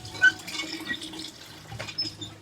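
Water spills and splashes from a hand pump, a steady, moderately close stream with small irregular splashes.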